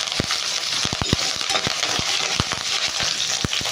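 Garlic cloves, around ten, and curry leaves dropped into hot oil for a coconut tomato chutney, giving a steady close sizzle with scattered sharp pops and crackles spread through the whole stretch.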